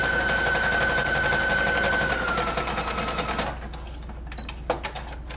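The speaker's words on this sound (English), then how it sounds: "I'm gonna do a zigzag stitch on there, and zigzag stitch them down" Sewing machine stitching a zigzag seam on the fabric sides of slip shorts, a fast steady mechanical rattle for about three and a half seconds, then stopping, leaving faint handling clicks.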